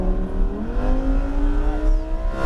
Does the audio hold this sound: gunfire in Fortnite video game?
no